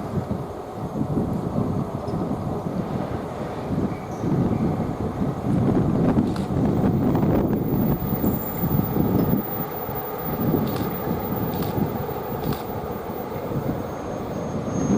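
A GBRF Class 47 locomotive train running from Leicester to Bicester Depot arrives at Nuneaton on the West Coast Main Line, a steady low rumble heavily buffeted by gusting wind on the microphone throughout.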